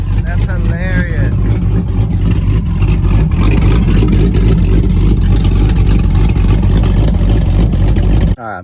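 A cammed Jeep SRT8 with a freshly fitted straight-pipe exhaust roars loud and close, a steady heavy engine drone with revving that holds nearly the whole time and cuts off abruptly near the end, while a voice briefly talks early on.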